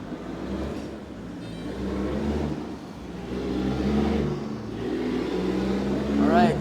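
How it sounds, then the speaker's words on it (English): Buses and trucks pass by on a nearby street outside, heavy engines swelling and fading in slow overlapping waves of low rumble, moderately loud with one rising at the end. "y'all hear the buses and trucks"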